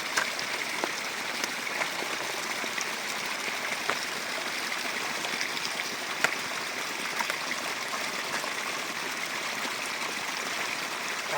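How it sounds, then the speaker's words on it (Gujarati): Irrigation water pours from a pipeline into a groundnut field, a steady, continuous rushing and gurgling flow that stays close and even throughout, with no voices. "અમે આ પાઇપલાઇનમાંથી પાણી કાઢી અને કરતા હોઈએ છીએ"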